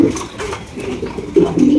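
Racer pigeons coo in a loft, a few low throaty calls close by with a louder burst near the end, over a murmur of background noise.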